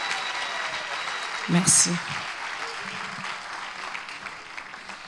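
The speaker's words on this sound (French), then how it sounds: "Est-ce que vous pouvez acclamer pour les Bartimée, Jésus?" A church congregation applauding and cheering, a broad wash of clapping that holds steady then slowly fades, with a voice briefly speaking over it.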